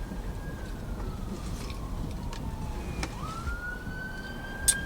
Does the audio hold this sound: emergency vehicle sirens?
yes